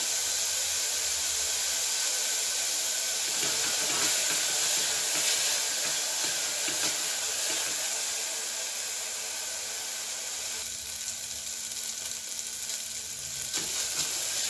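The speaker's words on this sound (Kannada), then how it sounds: "ಪಾಲಕ್ ಸೊಪ್ಪು ಸ್ವಲ್ಪ ಹಸಿ ವಾಸನೆ ಬಿಟ್ಕೋಬೇಕು, ಅಷ್ಟರವರೆಗೂ ನಾವು ಫ್ರೈ ಮಾಡಬೇಕು." Spinach (palak) sizzling in a pan over a low flame, a constant bright hiss and crackle of frying that carries on steadily, with occasional soft stirring scrapes and no one speaking.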